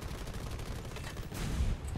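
Rattling bursts of flak anti-aircraft fire in War Thunder, a rapid volley of gunshots heard fairly quietly at some distance, swelling a little toward the end.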